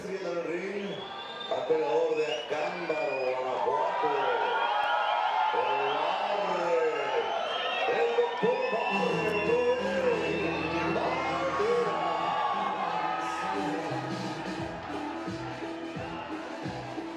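Crowd at a boxing event in San Miguel de Allende, Mexico, cheering and whooping as a general murmur of noise under a commentator who talks throughout.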